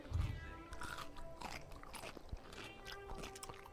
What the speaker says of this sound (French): Et je trouve qu'il croustille beaucoup quand même le burger.